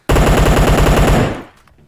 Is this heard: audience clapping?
no